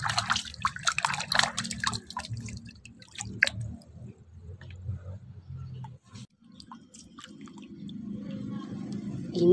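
Water splashes and drips quietly as small plastic toy animal figures are washed, with intermittent wet squishes and trickles and a soft running-water hiss building toward the end.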